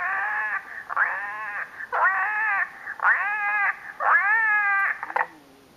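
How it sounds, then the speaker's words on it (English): A baby-crying sound effect plays during a storytime about a baby sister fussing inside a knapsack: five loud, drawn-out wailing cries in quick succession, with no talking. "She was not happy inside the knapsack and started to cry."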